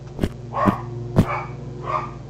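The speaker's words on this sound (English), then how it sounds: "that's my puppy barking in the background" A puppy barks several times from the background, sharp separate yaps with short gaps between them over a low steady hum.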